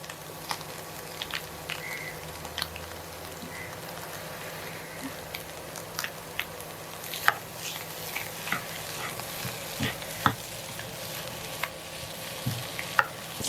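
Potatoes stirred and fried in a pan for a spicy bread toast snack, a soft low sizzle with scattered scraping clicks from the spoon, quiet and close, no talk.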